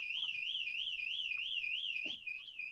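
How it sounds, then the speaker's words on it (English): A door alarm outside an office gives a steady warbling electronic tone that pulses rapidly and continuously, heard at moderate distance, with a brief faint knock partway through. "Sorry, we're having a door alarm just outside my office."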